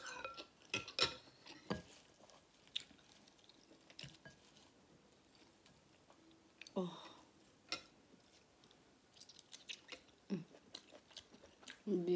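Close, wet chewing and slurping of pork and shrimp noodle soup comes in irregular bursts, with occasional light clinks of utensils against a bowl in a quiet room.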